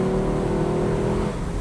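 Lexus LC 500 convertible with a 10-speed transmission in sport mode, its engine droning loudly and steadily under acceleration, heard from inside the car.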